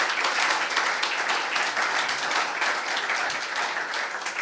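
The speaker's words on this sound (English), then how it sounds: "Thanks for the applause." Audience applause at the close of a technical talk on Kubernetes in manufacturing: dense, steady clapping from a room of listeners, continuous and fairly loud for the whole stretch with no voices over it.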